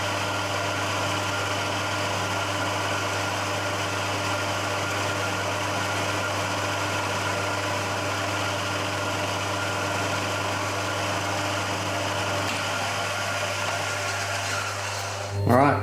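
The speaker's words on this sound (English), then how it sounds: "So I'll go ahead and center drill that." A machine tool hums steadily while center drilling a part for a Titan .60 glow plug model engine, a constant motor drone with a whining tone throughout, ending with a brief clatter as the machine stops.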